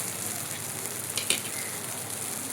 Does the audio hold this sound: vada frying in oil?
yes